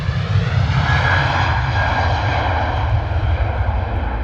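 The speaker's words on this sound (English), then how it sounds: "Beautiful Ryanair departure coming up for you." A Ryanair jet on its takeoff roll at London Stansted, bound for Edinburgh, gives a loud, steady engine roar with deep rumble and broad hiss, sustained and close throughout.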